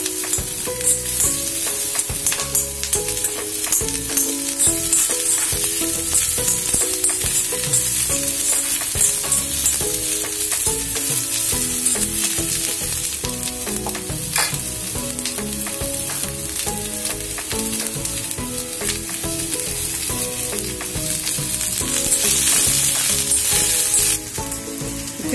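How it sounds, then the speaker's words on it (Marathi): Food sautéing in a little oil in a pan, a continuous loud sizzle with frequent stirring scrapes and clinks of a spoon against the pan throughout, no talking. "त्यातच आपण परतणार आहोत"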